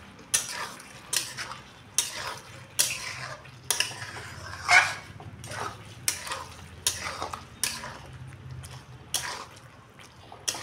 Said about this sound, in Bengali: নাড়ি চাড়িয়ে নেব।